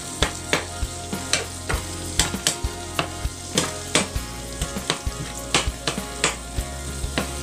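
Canned tuna is sautéed in a pan, a constant sizzle broken by a steady run of sharp clacks and scrapes as a spatula stirs it against the pan, close and busy with no talking.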